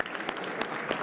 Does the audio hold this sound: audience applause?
yes